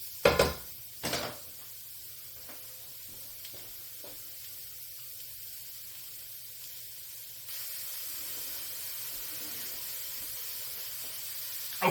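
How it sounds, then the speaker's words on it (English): Mushrooms sautéing in a pan, a soft steady sizzle running throughout after a couple of sharp clatters at the start, getting slightly louder in the second half. "my mushrooms are starting to get nice and softened up and browned up"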